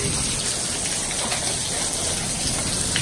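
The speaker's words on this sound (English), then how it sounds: "it's raining really bad" Heavy rain with hail pounds down outdoors in a constant, dense, loud hiss and patter that holds steady without any break.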